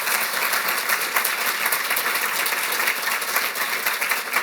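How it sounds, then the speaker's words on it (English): An audience at a panel discussion on arms control gives steady, dense applause that fills the room continuously from start to finish, with no voices standing out. "Can I please get a round of applause for our wonderful panelists?"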